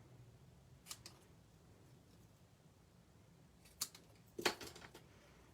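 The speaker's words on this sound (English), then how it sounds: "I'm going to trim this down just a smidge." Scissors snip a few times through cardstock while a sympathy card is being made. The quiet, close cuts come as short crisp bursts, one early, then two more near the end, with soft handling in the pauses.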